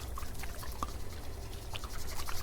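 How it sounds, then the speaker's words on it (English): Liquid-filled objects are moved close to the microphone for ASMR, giving soft, intimate bubbling and dripping with small irregular pops and gurgles over a low, steady background. "I'm going to use them to produce a little bit of a bubbling sound either side of your head"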